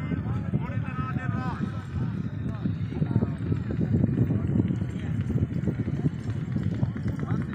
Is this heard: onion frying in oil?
no